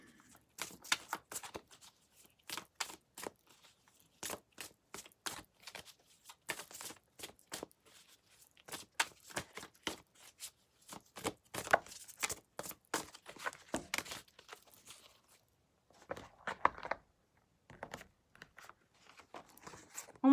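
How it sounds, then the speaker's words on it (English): Tarot cards being shuffled by hand in quick intermittent bursts of riffling and slapping, close and soft, separated by brief quiet gaps over a long stretch. "I'm just going to shuffle again for pile 3"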